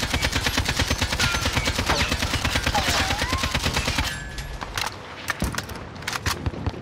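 An AK-47 fires a long 40-round automatic burst in the Modern Warfare video game, loud, rapid and evenly spaced shots for about four seconds, followed by quieter mechanical clicks and reload clatter.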